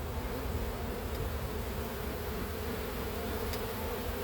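Honey bees pour out of an opened hive during a split, a dense steady buzzing hum close by and continuous, with no talking.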